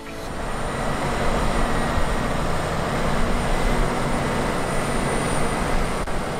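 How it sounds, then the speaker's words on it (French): A Valtra S series tractor pulls a 5-metre Lemken Karat cultivator across a field in plough-free tillage, giving a loud, continuous, broadband mechanical roar with no voices. "Le cultivateur de 5 mètres est tiré ici par un tracteur Valtra de série S."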